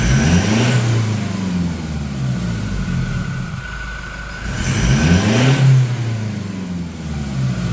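A Toyota Innova engine fitted with a Datatec air filter revs up twice, rising and falling smoothly over a steady idle, loud and close with no talking.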